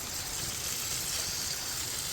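Chicken broth from a pressure cooker pours into a pan of gravy with a soft, steady trickle, faint and continuous without pause.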